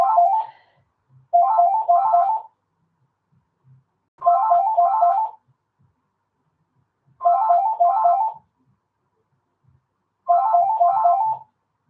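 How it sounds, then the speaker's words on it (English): A home telephone rings in four evenly spaced bursts, each a rapid warbling double trill with silence in between, clear and alone in a quiet room. "The home phone no one ever uses."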